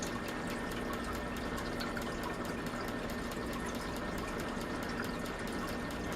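Continuous bubbling, trickling water with a steady mechanical hum fills the background while an aquarium water test vial is topped up to 5 milliliters, fairly loud and unbroken throughout.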